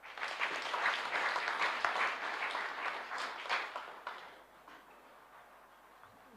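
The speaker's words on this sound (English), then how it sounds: "Let's clap for her" Audience clapping at a university graduation ceremony, a dense patter of many hands that stays steady for several seconds, then thins and fades into quiet.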